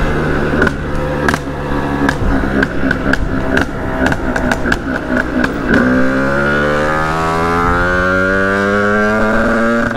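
A Sherco 50cc motorcycle engine revving hard through town streets, loud and close, with sharp throttle blips and gear changes early on, then a long rising acceleration whine that climbs steadily to the end.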